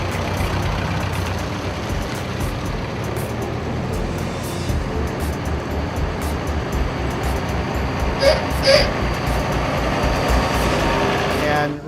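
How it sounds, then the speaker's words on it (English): A vintage fire truck rumbles as it moves out to join a parade at a Florida truck show, a steady loud engine drone with brief hissing air-brake-like bursts and voices mixed in. "the fire truck that you hear in the background is moving out to go into a parade"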